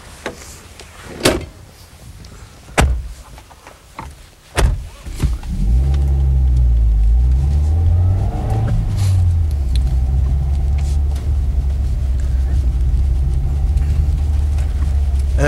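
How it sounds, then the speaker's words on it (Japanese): A Nissan Pulsar GTI-R is heard from inside: a few door and window clunks at first, then the engine starts and settles into a loud, steady rumble that rises and falls as the car drives off. "それではこれから町野さんにこの GTIR を運転していただいて"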